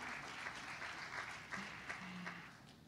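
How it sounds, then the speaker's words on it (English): Steady audience applause at a government side event meeting on open government values, a dense wash of clapping hands with faint voices beneath, sustained at even loudness throughout. "Can we give them another round of applause"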